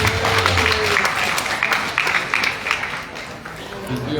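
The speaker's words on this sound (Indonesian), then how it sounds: "tepuk tangan untuk Bapak Ibu" Audience applause at a government meeting or socialisation session, a burst of clapping with crowd noise and some voices mixed in, fading toward the end.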